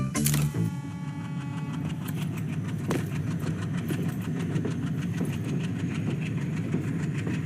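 A train pulls out of a station with a rumbling engine and rhythmic wheel clatter. A sharp horn-like blast opens the clip, then the rolling noise holds steady.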